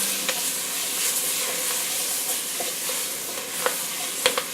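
Bell pepper, onion and celery frying in a gumbo pot give a dense, continuous sizzle and hiss, broken by several clicks and scrapes as a utensil stirs them, close and loud with no voices.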